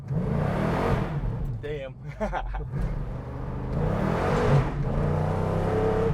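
A 1972 Plymouth Cuda's engine rumbles and revs close by, rising and falling in loud surges, while people talk over it.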